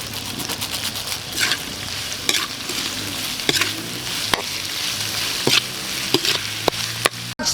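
Intestine and mixed vegetables stir-fry in a hot pan with a steady, loud sizzle. Sharp scrapes and clacks of a spatula stirring against the pan recur throughout, with no talk.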